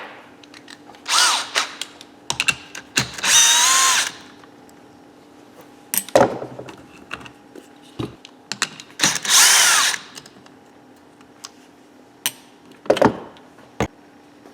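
A power drill removing screws from a Traxxas Rustler RC car's gearbox whirs in two long bursts, with clicks, clanks and short tool sounds between them at close range.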